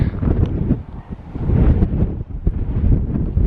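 Strong wind gusting across high moorland on Blakey Ridge in Yorkshire, roaring and buffeting the microphone in loud, uneven surges with no voices.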